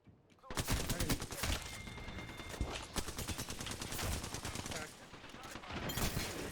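Dense, loud gunfire from a video game battle in Apex Legends, with rapid bursts of shots that carry on almost without a break for several seconds.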